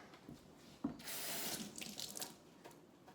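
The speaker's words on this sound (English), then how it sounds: "normally I would then rinse it under the tap" Fruit and vegetables rinsed under a running kitchen tap; water streams steadily into the sink for a couple of seconds after a brief knock, with no talking.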